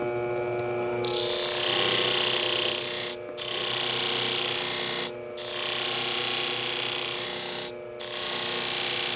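A grinding machine whirs steadily while badly chipped shears are sharpened on it, a loud continuous hum with a harsher grinding layer, broken by three brief dips where the contact stops.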